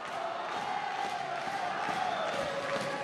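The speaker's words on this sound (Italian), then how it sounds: "Il tifo sugli spalti." Crowd noise rising from the stands at a junior WAKO World Championship kickboxing final, a steady continuous roar of cheering spectators filling the whole stretch at an even level, with no break.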